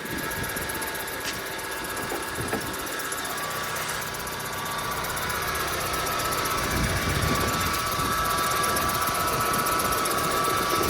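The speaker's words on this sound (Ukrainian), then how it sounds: "Двигун працює чітко, рівненько" A 2.0 Hyundai Tucson engine idles with an even, continuous hum and faint mechanical rattle, no voices, growing slightly louder toward the end.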